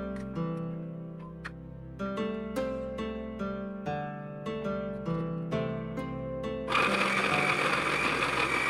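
Spice paste is ground in a kitchen, with a loud, rough whirring burst of an electric grinder starting near the end after a stretch of background music.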